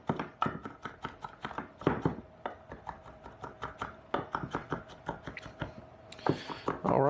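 A knife chops cherry tomatoes on a cutting board for salsa, giving a long run of quick, uneven sharp taps at close range with short pauses between bursts.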